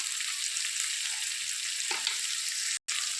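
Chopped sambar vegetables sprinkled with salt crackle softly in a pot with a steady sizzle and a brief stir partway through, cut by a short break in sound near the end.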